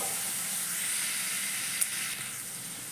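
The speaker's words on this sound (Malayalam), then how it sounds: "ലേശം ഒന്ന് വഴറ്റിയെടുക്കാം." Chopped garlic sautéing in a pan for a drumstick curd curry gives a steady, close sizzling hiss that carries on evenly throughout, with one brief sharper tick partway in and no voices.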